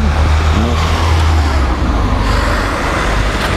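A 2003 Opel Agila with a 1.2-litre engine drones steadily with loud low engine hum and road rumble heard from inside the car, continuous with no clear gear changes.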